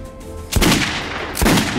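Two loud, close gunshots boom in Metro 2033 Redux, roughly a second apart, each with a sharp attack and a short echoing tail over quiet ambience.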